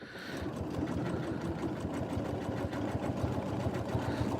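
A Janome M17 sewing machine stitches out an applique, its needle running in a steady, fast mechanical rhythm at close range with no talk over it.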